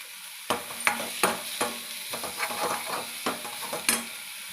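Goat brain (bheja) fries in a pan, with a steady sizzle broken by sharp scraping stir strokes from a spatula about every half second to a second, close and fairly loud, with no voices.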